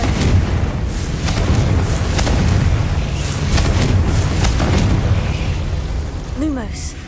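The Confringo fire spell goes off in Hogwarts Legacy as a loud, sustained rumbling boom layered with crackling bursts, with a short bright magical chime near the end.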